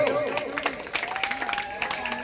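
An audience claps at a stage welcome ceremony for a Danda Nacha performance, with dense scattered applause over a public address voice speaking, steady and moderately loud throughout.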